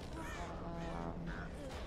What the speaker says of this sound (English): I hear a crow on someone